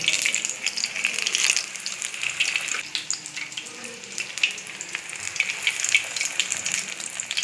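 Ajwain (carom) leaf bajji fritters frying in hot oil give a steady, close, bright sizzle with popping crackles that continues throughout, with no voices.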